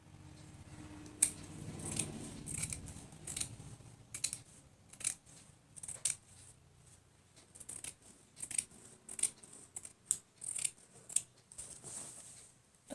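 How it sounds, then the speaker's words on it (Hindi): Scissors snip through a strip of cloth in a run of sharp, close, dry cuts, sparse at first and then quickening into a rapid series of crisp snips, with quiet pauses between. "तो इसे मैं काट लेती हूँ यहाँ से"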